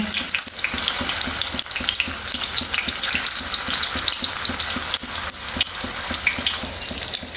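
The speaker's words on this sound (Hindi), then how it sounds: "इस सूरन को हाई फ्लेम पे ही फ्राई करना है ताकि अच्छे से क्रिस्पी हो सके।" Cubes of suran (elephant foot yam) fry in oil over a high flame, giving a loud, continuous crackling sizzle with dense bubbling that never lets up, with no voices over it.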